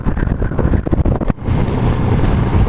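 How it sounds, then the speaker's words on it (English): Strong, gusty wind roars and buffets the microphone while riding a Honda NT700 Deauville motorcycle into Inverness in the Scottish Highlands, loud and continuous with choppy bursts before settling into a steady rush. "it is a windy, blustery day"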